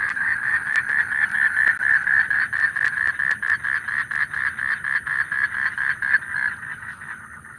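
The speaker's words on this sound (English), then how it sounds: "Let's see if I can give you 3 minutes of frogs." A dense chorus of frogs croaking outdoors at night near Choa Chu Kang in Singapore, a steady pulsing rhythm of overlapping calls that stays loud throughout and thins slightly toward the end.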